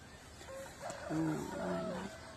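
A rooster crows faintly in the distance, one drawn-out call rising and falling against a quiet outdoor background.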